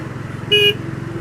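Road traffic on the Pratap Nagar bridge in Baroda city: a steady low rumble of passing engines, broken midway by a short, sharp vehicle horn toot close by.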